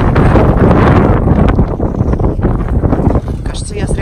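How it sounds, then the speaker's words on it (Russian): Very strong wind blowing off the Gulf of Finland, loud gusty roaring and buffeting right at the microphone, easing somewhat toward the end. "тут ветер очень-очень сильный"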